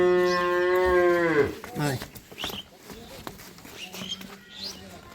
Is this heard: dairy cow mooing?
yes